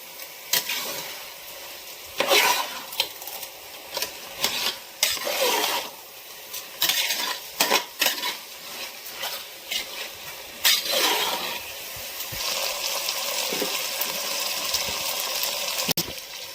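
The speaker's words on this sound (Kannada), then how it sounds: "ಈಗ ಚೆನ್ನಾಗಿ ಮಿಕ್ಸ್ ಮಾಡೋಣ." A chicken biryani mixture made with BT rice is stirred in a hot pot: irregular bursts of scraping and spoon clatter ride over a sizzling base, ending in steadier frying noise.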